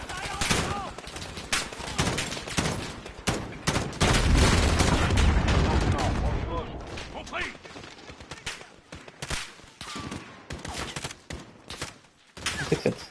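Dense gunfire rattles through a battle in Call of Duty Modern Warfare, loud overlapping shots and bursts with a heavy booming stretch, then thinning into scattered reports, with a voice speaking over parts of it.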